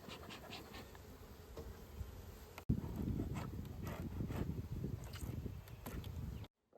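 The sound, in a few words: honeybees buzzing during spring hive inspection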